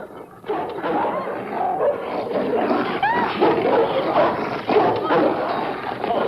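A dog barks and yips in an old film scene, its calls mixed into a steady bed of background noise and voices throughout.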